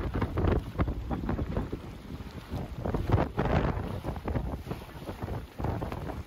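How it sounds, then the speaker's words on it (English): Strong evening wind buffets a sailboat, roaring and gusting in uneven surges of rumbling noise against the microphone, with the rush of water around the hull beneath. "And in the evening, the wind only gets worse."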